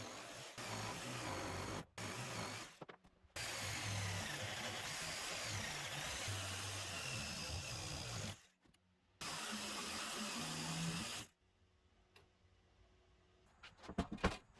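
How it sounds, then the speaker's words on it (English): A power tool cuts leg notches into the corners of a wooden shelf board for a live edge console table, a loud sustained whine broken by brief pauses before it stops and leaves a quiet tail with faint clatter. "Now I cut out the notches that the legs will fit into on all four corners of the bottom shelf."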